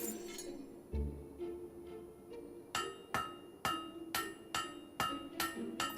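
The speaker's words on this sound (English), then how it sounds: "Great hammer work there." Repeated hammer blows on metal in the Fable 3 video game, about eight sharp ringing clinks in a steady rhythm, preceded by a few softer thuds, loud and close with no talk.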